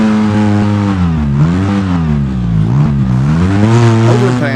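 Off-road vehicle engine in the Overpass racing game, a steady close revving drone whose pitch rises and falls as the vehicle drives out, heard without speech throughout.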